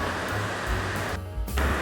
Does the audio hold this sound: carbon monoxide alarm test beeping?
no